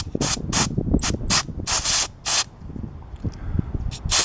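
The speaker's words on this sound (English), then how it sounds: "I'm going to use compressed air" Bursts of compressed air from an air compressor blow dirt out of a paper and foam air filter, several sharp hissing blasts of varying length, close and loud, with faint handling noise between them.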